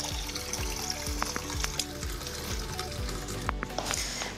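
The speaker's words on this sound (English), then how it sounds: "Now, hand washing." Hands being washed under a running kitchen tap, a steady stream of water splashing into the sink at close range, with faint rhythmic clicks underneath and no talk.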